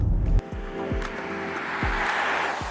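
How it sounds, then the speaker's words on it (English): An Audi e-tron electric SUV plays its synthetic sci-fi driving sound, a steady futuristic tonal hum with soft rhythmic low thumps from the road passing underneath. "They've injected some sci-fi noise. Kind of sounds like George Jetson's car"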